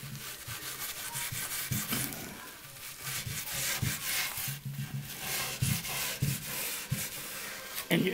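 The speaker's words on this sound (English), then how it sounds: "So just scrub the whole thing down" A wooden end table being scrubbed to remove residue, with repeated rhythmic rough rubbing strokes close by, steady and alone without talk.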